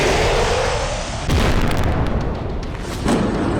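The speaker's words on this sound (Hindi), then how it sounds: "अमेरिकी हाइमार्स रॉकेट सिस्टम विस्फोटक हमले में तहस नहस।" A heavy explosion from an attack on a US HIMARS rocket system, a loud broadband roar that surges suddenly and rumbles on with a second swell near the end.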